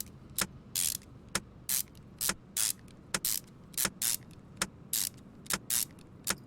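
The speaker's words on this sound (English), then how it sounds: "tightening bolts doesn't take long" Ratchet tightening bolts in the Car Mechanic Simulator 2021 game while setting up a timing chain: quiet, evenly spaced clicks alternating with short bursts of ratcheting, repeating steadily and alone.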